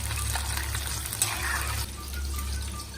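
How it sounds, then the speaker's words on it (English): Prawn fritters deep fry in extremely hot oil, giving a steady close sizzle and bubbling hiss with a low hum beneath and a slight drop in level partway through. "deep frying them in extremely hot oil"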